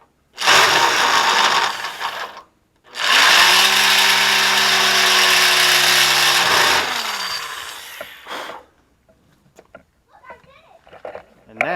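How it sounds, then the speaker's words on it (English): A step drill bores out a hole to half an inch in metal on a Chevy C10 rear suspension drop, giving two loud sustained grinding runs with a brief pause between, a low droning whine under the second, then quieter clicks and handling noise. "I'm going to finish taking this one to a 1/2."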